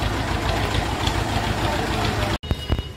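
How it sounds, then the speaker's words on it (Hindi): A Massey tractor engine runs with a rotavator attached, a steady loud diesel rumble with knocking texture that cuts out abruptly near the end, followed by a few brief louder bursts. "अभी इसको हम मैसी ट्रैक्टर पर चला कर देखेंगे"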